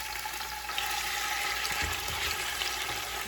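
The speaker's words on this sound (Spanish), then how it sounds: "Ya con la cebolla y el ajo sofrito vamos a empezar a agregar el pollo." Chicken pieces frying in a pan with sautéed onion and garlic, a steady close sizzle with faint stirring and clattering and no voices.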